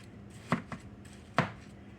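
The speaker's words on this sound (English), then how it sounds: "so you just take your knife and cut through here" A kitchen knife cuts through watermelon rind in big pieces, giving three short, crisp chopping thuds close by, two near each other and a third after a pause, against quiet background.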